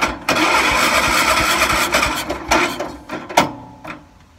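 The starter on a 1978 IH Cub Cadet 1000 tractor, revived after sitting twenty years, cranks loudly up close in a sustained whir, then stutters into uneven bursts as it slows without firing.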